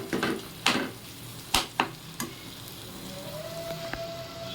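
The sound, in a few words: tuna sautéing and frying in pan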